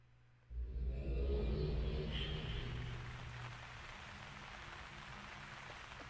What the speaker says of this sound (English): Yeah, there's rain.